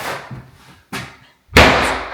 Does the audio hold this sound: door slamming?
yes